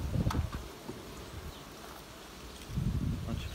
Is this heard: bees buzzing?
yes